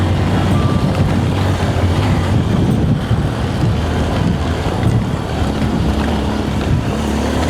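Strong wind at a remote campsite in Pangasinan, Philippines, buffets the microphone with a loud, continuous rumbling roar, steady for several seconds with no talking.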